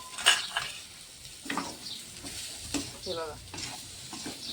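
Boiled potatoes and coriander sizzling in a pan on half heat, with a spoon scraping and stirring in several short strokes, close and fairly quiet, while someone speaks briefly.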